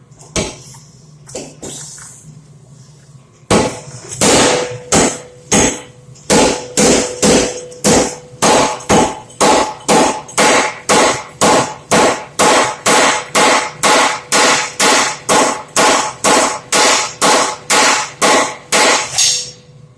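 Heavy power hammer blows pounding metal in a fast, steady rhythm as a piece is straightened, loud and close, after a few scattered opening strikes.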